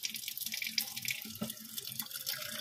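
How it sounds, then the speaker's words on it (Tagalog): Tap water runs from a faucet into a pot while making chicken adobo, a soft, steady splashing stream with small drips and clinks, fairly quiet and close, with no talking. "Tapos, lalagyan natin siya ng tubig."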